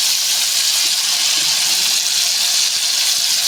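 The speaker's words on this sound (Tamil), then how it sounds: "ஸோ இப்போ சிக்கனை நம்ம ஃப்ரை பண்ணி எடுத்துடலாம்" Chicken pieces coated in masala sizzle and fry in a pan on low flame, a steady, loud, even hiss running from start to end with no voices.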